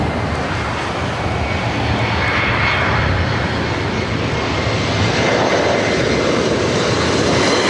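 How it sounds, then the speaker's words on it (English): Loud continuous roar of Delta Airbus A350 airliner engines during pushback at LAX, a dense steady broadband rumble and whine that slowly swells, heard near with no talk. "It's a Delta A350 now pushing back."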